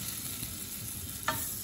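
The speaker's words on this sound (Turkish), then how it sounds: "5 dakika kadar kavuruyorum." Wheat flour roasting in olive oil and butter for milky tomato soup, a faint, even sizzle with soft stirring and a single brief scrape near the end.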